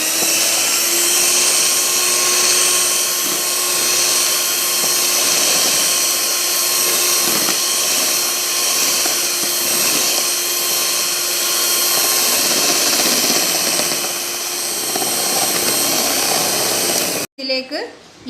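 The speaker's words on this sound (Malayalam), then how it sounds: "മിൽക്ക് മെയ്ഡും നന്നായി ബീറ്റ് ചെയ്യാം" An electric hand beater whirs steadily as it beats condensed milk for a homemade pineapple ice cream, a loud continuous motor drone that holds for most of the stretch before cutting off abruptly near the end.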